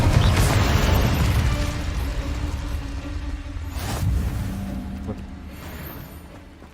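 Spell blasts in the video game Hogwarts Legacy: a deep, rumbling boom opens loud, then decays slowly, with a second burst around the middle and a fading crackle afterward, no voices over it.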